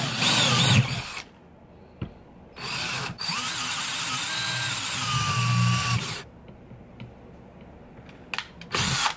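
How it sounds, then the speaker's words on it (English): A power drill bores holes into a vape mod in several bursts, whining loudly with brief pauses between runs and a squealing pitch glide as the bit bites into the metal. "Put a couple drill holes in there."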